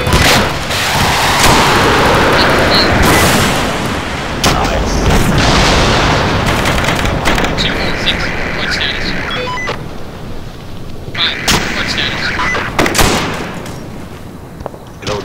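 Arma 2 night co-op firefight with repeated booming explosions and bursts of gunfire, loud and near, over a steady rumbling din, with people talking over the battle.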